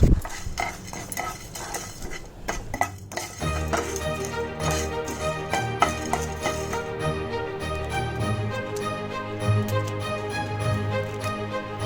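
Whole spices including stone flower and dried flower buds being dry roasted in a pan for a Rayalaseema-style curry, with steady metallic scraping and stirring rattles close by throughout, and no talk.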